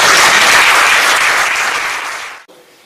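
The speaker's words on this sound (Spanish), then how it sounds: "Bueno, un aplauso." Audience applause in a lecture hall after a talk on Jewish exegetical tradition, a dense steady wash of clapping that fades and cuts off near the end, with no talk.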